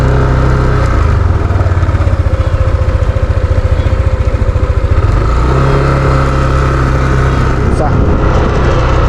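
A Yamaha NMAX scooter engine runs close by with a steady, throbbing idle, the pulses quickening and then settling into an even hum as the throttle is worked, while someone talks over it.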